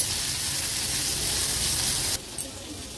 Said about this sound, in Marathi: आता हे नॉर्मल 2 बोंबील आपण फ्राय करायला घेतले आहेत, नॉर्मल रवा फ्रायच करायचे आहेत